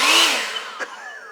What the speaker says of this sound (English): So we've got this fancy leaf blower, we've got the trimmer as well.